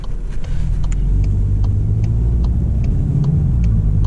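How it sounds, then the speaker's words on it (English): A 2024 Volkswagen GTI DCT engine pulling hard at full throttle in second gear, a loud, deep, steady rumble heard from inside the car with faint ticking above it. "When you put this car in second gear and just floor it"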